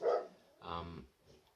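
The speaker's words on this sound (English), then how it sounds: "you can hear the door going and my dog barking" A domestic dog barks indoors, somewhere away from the microphone, while a door is heard: a few faint, separate barks with brief pauses between them.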